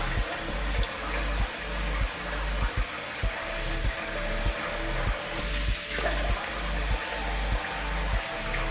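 A tap runs with a soft, continuous hiss as someone rinses off after a shave, with faint rhythmic dull bumps underneath and no speech.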